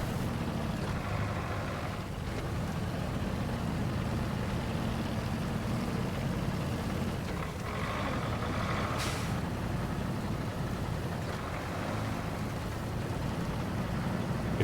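Heavy truck engine rumbling steadily on a snowy mountain climb in the SnowRunner game, with a continuous low drone, brief air-brake hiss and faint reversing beeps near the middle.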